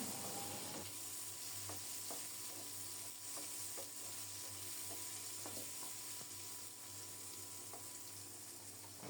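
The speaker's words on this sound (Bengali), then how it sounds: "তেল ছিটকে উপরে উঠে যাচ্ছে" Oil spatters steadily as potatoes, carrots and tomato fry in a pan, a continuous close sizzle broken by scattered sharp pops, with no talking.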